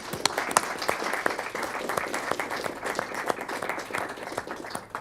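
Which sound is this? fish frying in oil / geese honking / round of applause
round of applause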